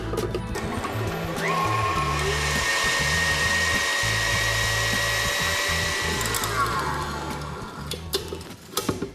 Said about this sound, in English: What's important now is to whisk up the egg yolks, sugar and lemon zest.